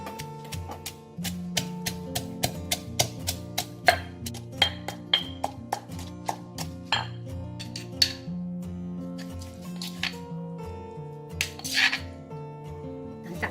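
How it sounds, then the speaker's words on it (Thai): Steady rhythmic pounding and clinking of a pestle striking a mortar, crushing coriander root for a chicken paste, repeats about twice a second under soft background music. "แล้วเราก็ตำนะคะ"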